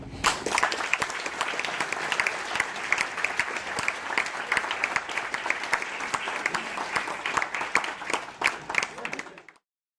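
Sustained, dense audience applause follows a retirement speech, with steady close clapping from many hands that holds for nearly ten seconds before cutting off abruptly.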